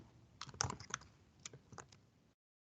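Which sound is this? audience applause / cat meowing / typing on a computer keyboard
typing on a computer keyboard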